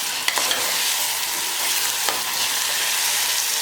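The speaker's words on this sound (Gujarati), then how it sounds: "અને 1 મિનિટ સુધી બધા મસાલાને આવી રીતે હલાવી લઈએ" Salt, red chili, cumin and fresh coriander spices fry in a pan for an urad dal curry while being stirred, giving a steady close hiss with a few sharp scraping clicks near the start and around the two-second mark.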